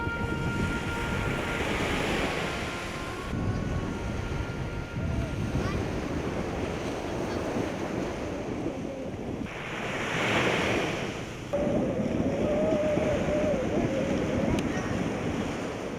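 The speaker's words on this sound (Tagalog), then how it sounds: "Malakas pa rin ang hangin sa gitna ng dagat." Strong wind roars across the microphone over the wash of sea waves out at sea on a small fishing boat, with gusts surging and easing throughout.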